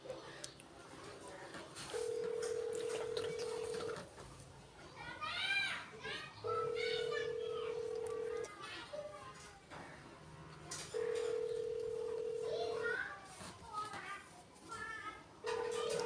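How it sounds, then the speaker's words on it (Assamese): A phone call placed on loudspeaker rings out in repeated two-second ringback tones with pauses between them, under lively children's chatter and voices nearby. "এতিয়া মই এইটো নাম্বাৰটোত কল কৰোঁ আৰু ডাইৰেক্ট এতিয়া লাউড স্পীকাৰ দিছোঁ"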